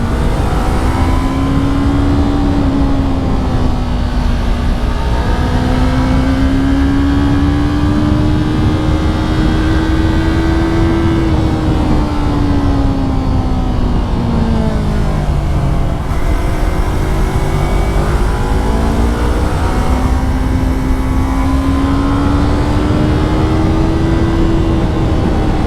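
A Yamaha R3 motorcycle ridden on the road, with a steady, loud engine drone whose pitch rises and falls gently as the rider speeds up and eases off, under constant wind and road noise.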